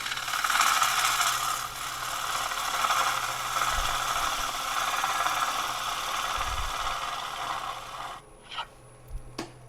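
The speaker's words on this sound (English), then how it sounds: "let's get the bottom feeder out and see how that does some cuts down here" Woodturning cut on highly figured English walnut with a bottom feeder gouge, a steady close hiss of the tool shaving the spinning wood for about eight seconds, then the cut stops and a few soft knocks follow, with no talk.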